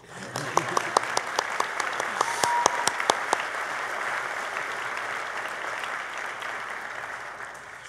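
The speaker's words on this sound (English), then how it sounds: "We'll applaud you before you even speak." A ceremony audience gives steady applause for an honoree, sustained clapping with a few sharper, closer claps standing out at the start, fading slightly toward the end.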